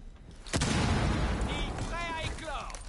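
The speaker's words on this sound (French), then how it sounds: "Explosion de la charge!" A breaching charge blows open a door in Rainbow Six Siege on PS4, a sudden loud blast followed by a sustained rumbling wash of debris and noise, with players' voices over it.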